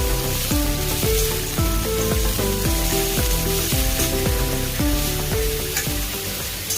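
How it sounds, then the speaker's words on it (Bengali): Vegetables fry in hot oil for a vegetable dal, giving a loud, continuous sizzle that runs the whole time under steady plucked background music. "এবার সবজিটা আমি সুন্দর করে এই তেলের মধ্যে ফ্রাই করব।"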